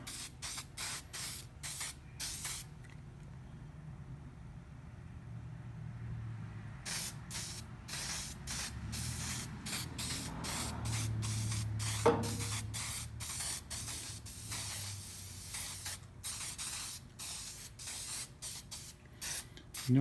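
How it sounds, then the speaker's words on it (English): Loctite rust neutralizer hisses from an aerosol can onto a VW Beetle floor pan in a series of short, sharp bursts with brief pauses, ending in longer quick sprays. "So you seen me spray the Loctite."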